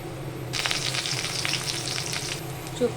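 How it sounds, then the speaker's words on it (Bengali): Dried red chilies dropped into hot oil for tempering, a sharp burst of crackling sizzle that runs for about two seconds and then fades back to a low background hum. "আমি একটু শুকনো লঙ্কা ফোড়নে দিয়ে দিচ্ছি"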